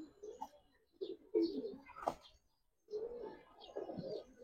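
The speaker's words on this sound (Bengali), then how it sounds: "দেখেন যে কত সুন্দর কবুতর" Pigeons coo nearby in soft, throaty bursts, several low rolling calls with short pauses between them, fairly quiet against a calm background.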